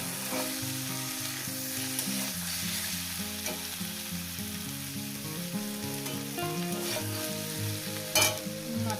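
Dried fish masala frying in a pan with tomato just added, a steady close sizzle running throughout beneath soft stirring and occasional scrapes, with no talking.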